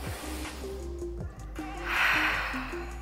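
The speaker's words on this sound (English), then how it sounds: "We exhale out of the mouth." A long, breathy exhale through the mouth swells and fades, with a soft hum of music underneath.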